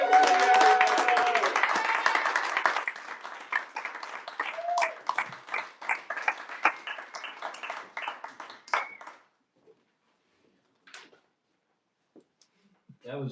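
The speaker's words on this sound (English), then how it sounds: "Let's give him a big round of applause." A small audience claps after an amateur stand-up comedy set, starting as a moderate round of applause and thinning into scattered individual claps before trailing off into silence.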